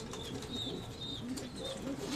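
Homing pigeons in a loft give soft, low cooing murmurs with faint wing flutters and light chirps, a steady close backdrop with no voices.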